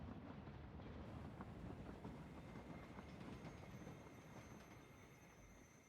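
Train rolling through Vikendi in PUBG, a steady loud rumble of rail wheels and carriage noise running throughout, easing slightly toward the end, with no talk.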